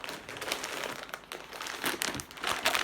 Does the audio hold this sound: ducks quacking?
no